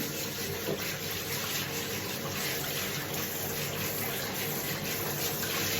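Steady rush of hot water pouring from a bathtub tap to rinse the tub bottom, continuous and fairly loud, with no voices.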